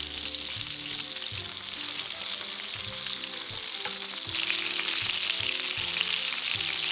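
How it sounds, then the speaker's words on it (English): Belt fish frying in oil in a pan over medium heat, a steady dense sizzle that runs unbroken throughout and grows slightly louder partway through, with no voices. "In a pan over medium heat, add the oil and the belt fish. Cook until golden brown on both sides"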